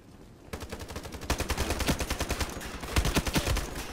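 MSBS rifle in the shooter Ironsight fires rapid automatic bursts, loud and close, with a dense run of sharp cracks after a brief quiet start.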